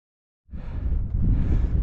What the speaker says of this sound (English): it's windy and it's cold because of the wind